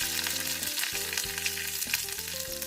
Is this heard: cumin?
yes